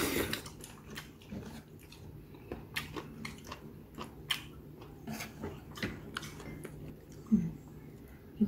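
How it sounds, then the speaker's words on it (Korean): Close-up eating of crunchy bean sprouts with chicken feet in a saucy broth, heard as irregular crisp bites and wet chewing crunches scattered over several seconds in a quiet room. "아삭아삭하고 맛있네."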